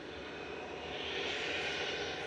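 An EasyJet Airbus A320-200 Classic airliner arriving from Jersey at Manchester Airport, a steady, moderately distant engine roar that swells slightly midway and holds without a break, with no voices.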